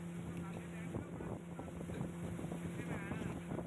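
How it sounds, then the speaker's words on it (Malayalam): Motorboat cruising across Banasura Sagar dam reservoir, an earth-and-rock dam in Wayanad, Kerala, its engine a steady close drone with wind buffeting the microphone and water wash throughout. "നമ്മുടെ ബോട്ട് അങ്ങനെ പോവുകയാണ് കേട്ടോ"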